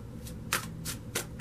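Tarot cards being shuffled and drawn for a reading, heard as three quick, crisp riffling bursts of card against card with quiet pauses between them and no talking.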